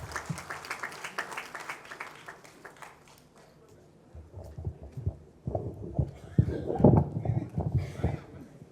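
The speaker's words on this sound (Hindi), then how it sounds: "स्वागत कीजिए तालियों के साथ" An auditorium audience at a Hindi poetry festival breaks into scattered applause that swells in the latter half, following a stretch of amplified speech.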